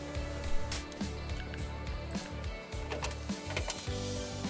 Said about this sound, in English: Here I'm just doing all the filler rivets in the middle of the wall.